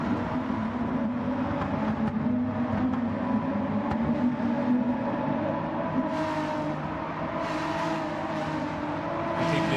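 BMW GT4 race cars in a sim racing game drone steadily through the braking zone, a dense continuous engine roar with a slight pitch shift and faint higher whine toward the end.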